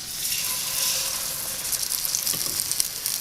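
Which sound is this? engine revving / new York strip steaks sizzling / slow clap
new York strip steaks sizzling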